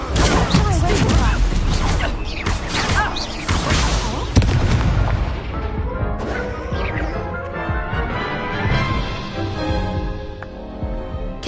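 Stupefy spell effects in a Harry Potter game land as loud booming crashes and clattering impacts, densest early and easing off into quieter magical rumbles over several seconds.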